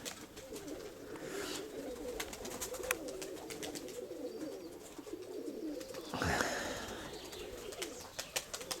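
Pigeons coo in a steady, overlapping chorus throughout, fairly close, with a rustle of wing flaps or movement near the end.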